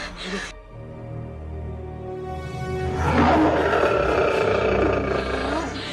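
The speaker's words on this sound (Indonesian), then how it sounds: "Harimau itu datang lagi." A tiger roars in a dramatic scene, a short burst at the start followed by a long, loud rising roar that swells in the second half and holds over a low rumble.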